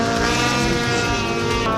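A Harley V-Rod motorcycle roars at a drag racing event, its engine droning loud, close and steady with a dense harmonic growl and no talk.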